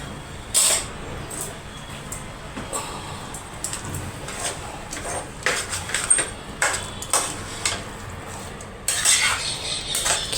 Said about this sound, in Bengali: ক্ষীরটা ভালো করে মিশিয়ে নিচ্ছি।